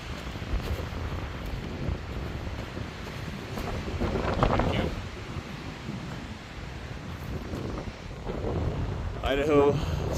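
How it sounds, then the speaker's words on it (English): Wind gusts buffet the microphone at an outdoor overlook on a drive toward Denver in a 1999 Isuzu Trooper, with a snowstorm in the distance; the roar rises and falls in surges, and a voice comes in briefly near the end. "Windy."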